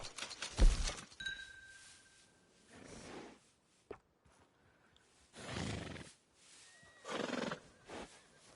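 A horse in the video game Red Dead Redemption 2 whinnies loudly, then snorts and neighs again several times with quiet gaps, plus a faint hoof clop in between.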